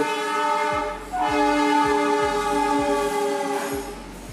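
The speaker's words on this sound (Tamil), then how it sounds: "இந்த ட்ரெயின் போகுது" A train rolls past outdoors with a steady low rumble and a sustained horn-like tone, with faint rhythmic clacking of wheels over rail joints about once a second, loud and close throughout.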